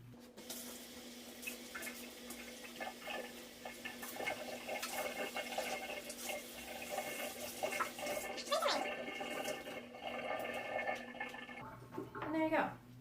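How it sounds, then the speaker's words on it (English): A Norwex EnviroCloth is rinsed under warm running water in a sink, a continuous close splashing stream with clatter and shifting gurgles, stopping near the end. "I'm just going to rinse it in my sink."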